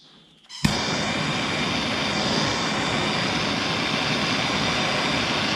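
MAP gas torch roaring steadily as it heats solder on boat electrical wiring, igniting with a sharp onset after a brief quiet moment, then a loud, continuous broadband hiss close by.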